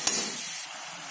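Ripe tomatoes sautéing in a pan for egg idiyappam biryani give a brief, close, steady hiss and sizzle, with a soft stirring scrape near the start, and no one speaking.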